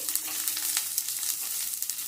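Carrot and onion frying in a wok while being stirred give a soft, continuous sizzle with light scraping and clicking from the spatula, fairly quiet and close, with no voices.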